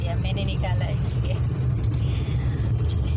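Traffic on University Road, near ongoing metro construction: a steady low rumble of cars passing nearby, with someone talking over it.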